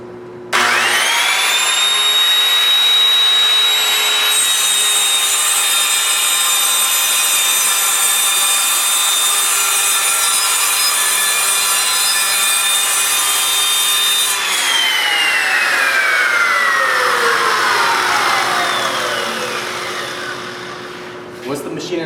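A power saw runs loudly and steadily through wood for about fifteen seconds, then its pitch slides down as the machine is switched off and the blade winds down.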